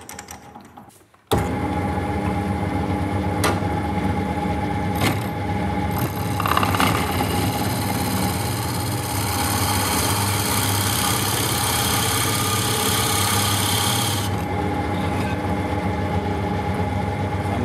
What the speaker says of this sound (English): Basically, I'm drilling holes to create a flat surface